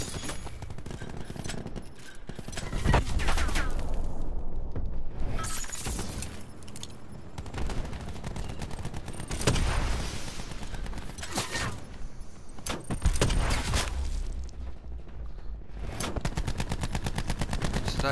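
Sustained gunfire in a shooter video game, dense rapid bursts and repeated shots filling the whole stretch, loud and close, with heavy impacts now and then and a player talking faintly underneath.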